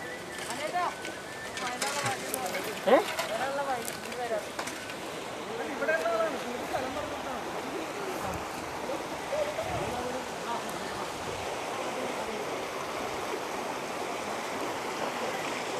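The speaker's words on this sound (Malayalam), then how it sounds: "വളരെയധികം വലിയൊരു മലമ്പുഴ ഡാമിലെ വെള്ളം ഒഴുകി വരുന്ന വലിയ പാലക്കാട് ജില്ലയിലെ തന്നെ ഒരു വലിയ കനാലാണിത്" Water rushing through a large canal fed from the Malampuzha dam in Palakkad, a steady broadband wash with splashing detail, heard from nearby at moderate level without pause.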